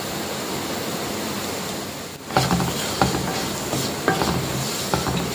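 Potatoes sautéed with spice powders in a pan make a steady sizzle, then a spatula stirs and scrapes in close, distinct strokes, with no talking.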